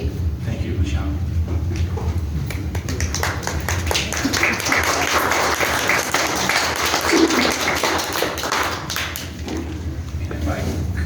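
Clapping fills a city council chamber during citizen remarks on ethics reform, a sustained patter of hands with thumps and room noise, mixed with voices.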